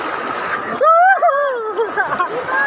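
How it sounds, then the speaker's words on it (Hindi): Strong floodwater rushes through a flooded residential colony in Loni, Ghaziabad, a steady loud wash with splashing, soon covered by someone talking close by. "पानी का बहाव बहुत ज़्यादा है दोस्तों, बहुत ज़्यादा है वाकई में"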